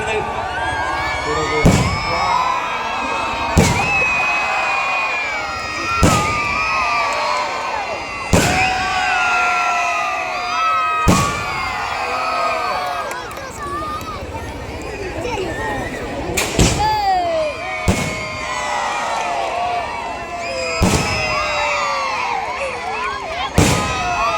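Fireworks display staged by a club in Kerala, with a steady series of loud booming bursts roughly every two to three seconds over continuous crowd noise, whistles and talk throughout.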